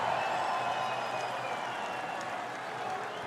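A crowd claps in sustained, dense applause to welcome a speaker at the opening of the Bayonne festival, the sound steady and full throughout the short span.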